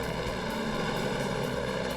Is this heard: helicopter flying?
yes